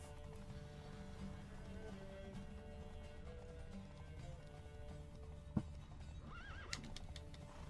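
Steady clip-clop of hooves from a galloping horse in a race in the video game The Witcher 3 runs throughout, with the horse whinnying a couple of times near the end over a constant background hum.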